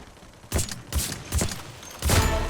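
Bursts of P90 submachine gun fire in the Free Fire battle royale game: four short rapid volleys spaced about half a second apart, fairly close and crisp, with no talking over them.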